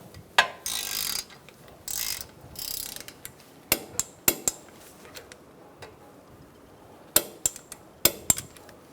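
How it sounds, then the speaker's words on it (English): A ratchet-type torque wrench tightens brake caliper bolts on a Buick Encore to 21 foot-pounds, with bursts of rapid ratcheting followed by sharp separate clicks, close and loud in a quiet garage. "We're going to torque those to 21 foot-pounds."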